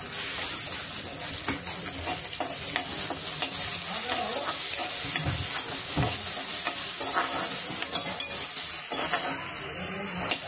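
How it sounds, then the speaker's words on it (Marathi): Onion and tomato frying in a pan for a spicy rava upama cake, a steady close sizzle with repeated scraping and stirring strokes and occasional utensil knocks, no talking. "कांदा थोडा लालसर होईपर्यंत भाजायचा. आता आपण यामध्ये टमाटर टाकूया."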